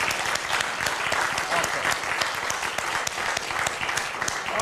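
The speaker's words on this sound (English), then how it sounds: "let's give her our applause" Steady applause from an audience at a life celebration event, a dense, even wash of many hands clapping that stays loud for the whole stretch with no break.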